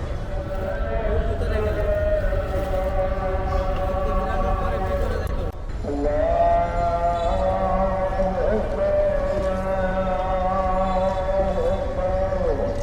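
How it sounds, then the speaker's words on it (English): A sustained, wavering chanted Islamic call to prayer carries from a distant loudspeaker in Dhaka, Bangladesh, echoing over humid outdoor riverside background noise. "that noise you can hear emanating from a speaker system, that's the call to prayer."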